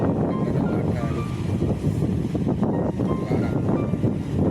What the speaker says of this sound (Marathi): लाटाच्या वाऱ्याला त्या लाटा किती जोरात.